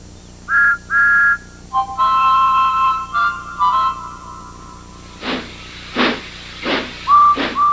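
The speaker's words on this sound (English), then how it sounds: "That sounds like a very good engine whistle." A cartoon steam engine whistle sounds in several clear tonal blasts, first short then sustained, followed by bursts of hissing steam and a final short toot.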